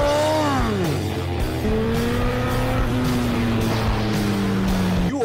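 A 2020 Yamaha MT09 motorcycle with an Akrapovic carbon full exhaust system revs and rides past, its engine note rising and falling in loud, continuous sweeps with shifting pitch.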